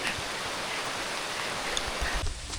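Rain falls outdoors in Pangasinan near Lipit Falls as a steady, dense hiss that stays even and fairly loud throughout, with no talk.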